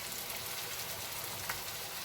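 Hot water cornbread sizzles in a pan of hot oil, a steady, close crackling hiss that runs unbroken with no voices.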